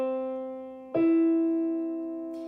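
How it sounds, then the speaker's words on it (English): A third played as two sustained tones: one note rings, then a second joins about a second later and both hold together, clear and close, with no talk. "So just to remind you, here is a third."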